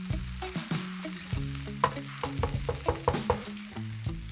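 Garlic and fresh grated ginger sizzle and crackle in a hot frying pan while being stirred, with frequent scraping and tapping of the utensil against the pan, close and busy throughout.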